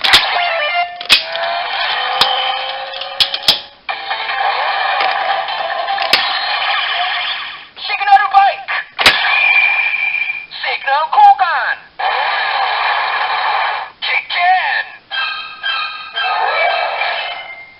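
A loud Kamen Rider Drive DX Shift Dead Heat toy belt blares synthesized alarm tones and jingly effects in bursts, punctuated by sharp clicks, with a brief gap in the middle.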